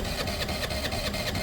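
A Lexmoto Michigan motorcycle engine runs steadily up close, its busy mechanical chatter carrying a faint rhythmic pulse throughout with no talk over it.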